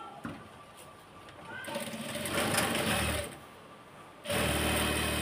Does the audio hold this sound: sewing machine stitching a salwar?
yes